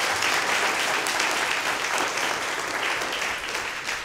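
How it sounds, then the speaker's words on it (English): A church congregation gives a big round of applause, a dense, steady wash of many hands clapping that holds evenly and fades slightly at the end. "Could you give him a big hand clap in the Lord?"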